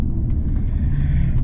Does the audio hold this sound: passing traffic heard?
yes